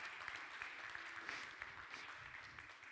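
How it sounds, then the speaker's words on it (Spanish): Congregation at a Sunday church service applauds together, a dense, steady wash of many hands clapping with no single claps standing out, fairly distant and even in level throughout. "Yo le daría un aplauso al Señor de verdad por eso"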